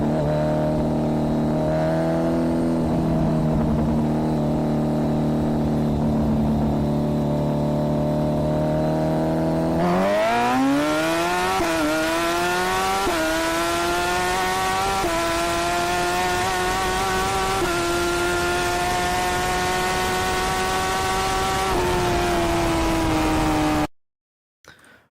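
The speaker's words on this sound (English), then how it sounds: "This here is roughly a 270 horsepower Busa. This is called what's a tie winder exhaust, so it's a side exit exhaust, relatively louder exhaust." A roughly 270 hp Suzuki Hayabusa with a loud side-exit exhaust, recorded close from the swing arm. It idles with a steady, buzzy drone, then revs hard with rising pitch that climbs and holds before cutting off abruptly.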